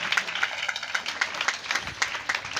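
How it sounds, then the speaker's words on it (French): Clapping from an audience at a welcome ceremony for new sixth-grade pupils at a collège, with rhythmic, fairly faint claps in a repeating beat, as if the crowd were clapping together in time. "Applaudissez-la."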